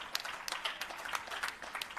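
Audience at a restorative justice conference claps for a moment, a fairly faint patter of scattered hand claps with no voices.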